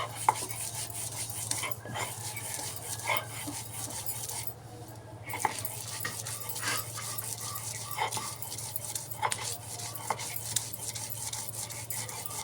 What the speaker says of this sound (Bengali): মরিচগুলো আগে খুব ভালো করে পিষে বেটে নেব।